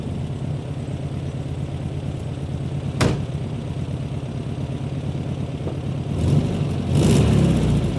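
A 1972 VW Super Beetle runs on a road test, its air-cooled engine humming steadily with a sharp knock near the third second and louder revving swells toward the end, no voices.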